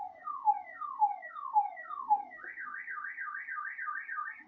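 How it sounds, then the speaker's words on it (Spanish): Car alarm set off by thunder and lightning, cycling through a falling repeated chirp four times, then switching to a fast warbling siren pattern, steady and fairly loud with no talk. "activó la alarma de los vehículos detenidos"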